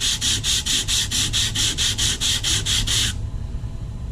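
Sandpaper is rubbed by hand on a laminated composite fin in quick, even back-and-forth strokes, about a dozen rasping passes close up before stopping, leaving a quiet background.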